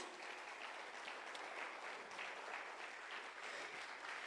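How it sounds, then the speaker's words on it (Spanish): Sustained applause from a church congregation, steady and fairly loud throughout with no pauses. "¿Le puedes dar un fuerte aplauso al Señor Jesús?"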